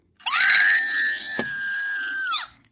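Finger Scream novelty toy by Unemployed Philosopher's letting out a single high, piercing synthetic scream that holds steady for about two seconds, then bends and cuts off abruptly, close and alone.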